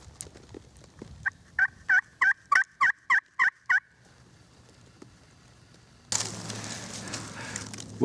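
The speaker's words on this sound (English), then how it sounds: "I got a Jake to cackle back at me" A wild turkey jake calls in the Tennessee woods with a rapid run of about nine sharp, clear cackling yelps, fairly close and loud, followed by quiet rustling and then a burst of louder handling noise.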